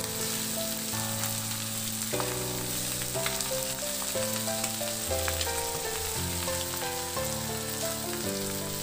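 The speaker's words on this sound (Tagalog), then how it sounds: "Igisa lang yung bawang hanggang sa maglabas ng aroma." Garlic sautés in oil rendered from pork ribs with a steady, close sizzle, while a sustained musical tone with changing pitches plays over it.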